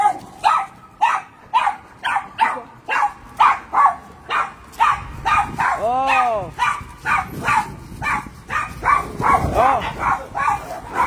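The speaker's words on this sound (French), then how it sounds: "Les chiens là sont graves" Several dogs, including one called Hermès, bark in a steady rapid series, loud and close. Excited yelps and whines are mixed in, and a person exclaims briefly over the noise.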